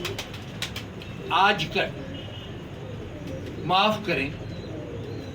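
Pigeons in a loft cooing in two short bursts under a man's steady speech, with faint outdoor background noise between calls.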